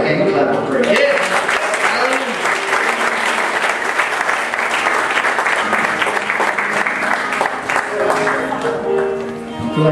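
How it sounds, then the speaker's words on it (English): A church congregation at a camp meeting claps its hands in sustained, dense applause that carries on for several seconds, with voices calling out over the clapping. "Would you give them a hand clap for Him?"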